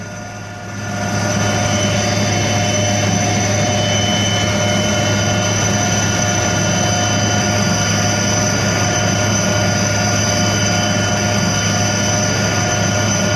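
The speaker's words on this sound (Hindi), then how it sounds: "बाढ़ प्रभावित इलाकों में हेलीकॉप्टर से पहुंचाई जा रही राहत सामग्री" Helicopter delivering flood relief supplies in Assam, a loud, steady whirring engine drone that swells up within the first second and then holds constant and close throughout, with no voices.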